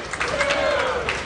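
Crowd of Apple fans cheering as a store opens for the new iPad launch, a dense burst of shouting voices and clapping close by with a rising whoop through the middle.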